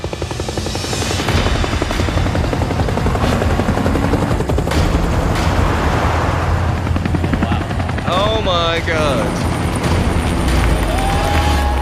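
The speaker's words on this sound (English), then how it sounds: "Suddenly, in the distance, come two bloody helicopters and two trucks just driving and flying towards us" Two helicopters fly toward the listener across the desert with a loud, continuous rotor chop that builds over the scene, while trucks drive alongside and a voice exclaims briefly.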